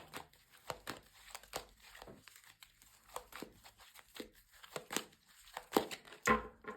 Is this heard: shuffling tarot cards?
yes